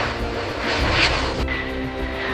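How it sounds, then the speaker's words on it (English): Jet engines of an Airbus A320 airliner spooling up at low altitude, a loud sustained roar with a rising whine, close and continuous throughout. "The engines spool up,"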